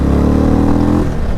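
Stage 2 2022 Indian Chief Dark Horse motorcycle engine revving and pulling hard, a loud steady low rumble with strong harmonics that shifts pitch near the end as the clutch engages, close and continuous with no talk.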